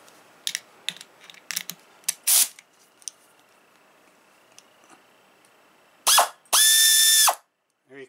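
Pneumatic 1/4-inch drive air ratchet: scattered clicks and ticks of handling, then two loud bursts of high-pitched whining motor near the end, close up and alone.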